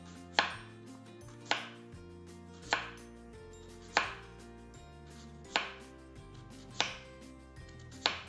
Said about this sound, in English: you just slice all the way down the sweet potato